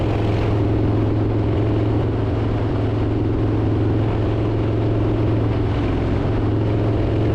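Motorcycle engine roaring inside a road tunnel, a loud continuous droning rumble with dense low harmonics that stays steady throughout.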